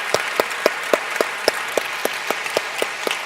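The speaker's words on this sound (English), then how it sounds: "we should give our guests another round of applause" A conference audience at a healthcare symposium claps in a steady, rhythmic round of applause, individual claps sharply audible and evenly spaced, with no talking over it.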